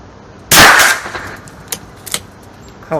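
A single sharp crack from a .22 rifle at target practice rings out close by, followed by a few faint clicks and knocks in a quiet outdoor setting.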